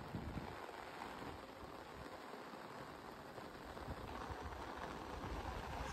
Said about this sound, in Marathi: पाऊस जोरात झालाय.